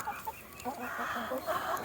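Several chickens cluck busily around a silicone-port chicken feeder on an Irish homestead, a steady overlapping stream of short, close calls with soft shuffling beneath.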